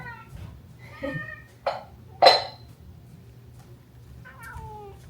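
A pet cat meows indoors, with several short, close, rising calls and one sharper, louder cry midway, plus faint clatter and a low hum in the background.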